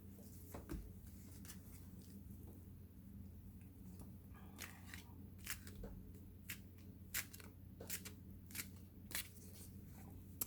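Talisman oracle cards are shuffled in quick bursts of crisp flicks and slaps, with a steady low hum running underneath and no one speaking.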